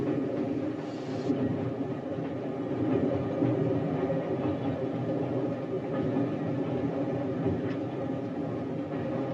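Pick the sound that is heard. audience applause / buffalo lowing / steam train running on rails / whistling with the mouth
steam train running on rails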